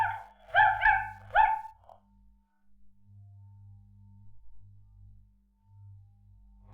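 A dog gives a short run of high, whining yelps and whimpers up close for about two seconds, followed by quiet, low background rumble.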